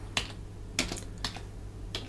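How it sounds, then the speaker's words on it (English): A handful of separate keystrokes on a computer keyboard sound in quiet, spaced bursts as a Linux terminal command is typed without looking, with a low steady hum underneath and no talking. "So let's type blind"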